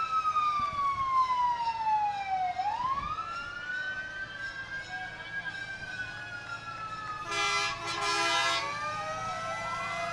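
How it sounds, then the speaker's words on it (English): A 1929 antique fire pumper, engine 2 from Concord, New Hampshire, sounds its siren in a Fourth of July parade, the wail sweeping down and rising again, with a brief broadband blast near the end over steady street noise. "This is a 1929 fire pumper. Aaron's Fox, engine 2 out of Concord, New Hampshire."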